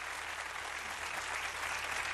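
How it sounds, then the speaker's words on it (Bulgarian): Studio audience applause on a TV impersonation show, a dense, even roar of clapping that holds steady and somewhat soft throughout the two seconds, with no distinct individual claps standing out. "Луна, Луна, дами и господа, аплодисменти за нея!"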